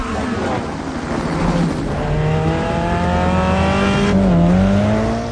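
Race car at the Red Bull Ring in Austria, engine note rising and shifting through gears as it accelerates, loud and continuous with a voice talking over it.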